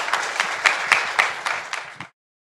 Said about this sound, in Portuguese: Um aplauso para o David